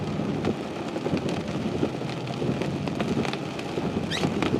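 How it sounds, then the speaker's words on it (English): Rain pours steadily ahead of an approaching thunderstorm core in Wisconsin, a dense constant wash with scattered louder drops and a few sharp ticks, close and moderately loud, with no voices. "It's definitely rainy. It's raining."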